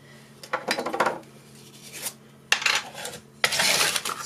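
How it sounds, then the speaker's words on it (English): Plastic containers are being washed by hand, with short bursts of rubbing, clattering and knocking that come in three separate clusters with quiet gaps between them, close by and without speech. "So I wash these containers."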